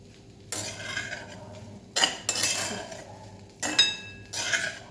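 A spoon stirring soft, milk-soaked semolina sheera in a metal pan, with three or four distinct bursts of clinks and scrapes against the metal separated by quiet pauses.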